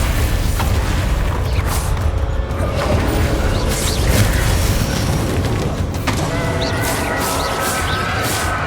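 Bombarda and Confringo explosion spells in Hogwarts Legacy during a battle burst in a dense, continuous roar of blasts and crashes, with repeated loud impacts layered over a steady rumbling din.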